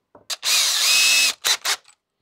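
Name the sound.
power drill drilling with a 3/16 drill bit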